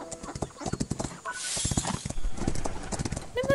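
A horse gallops across a cross-country course in the mobile game Rival Stars, its hooves drumming in a quick, steady clip-clop. A voice talks over the hoofbeats throughout.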